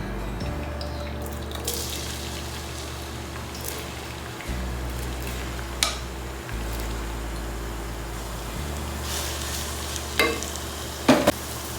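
Chopped onion, ginger and garlic fry in hot oil in a cooking pot, a steady close sizzle with scraping stirs and occasional clinks, a low background hum throughout and no talking.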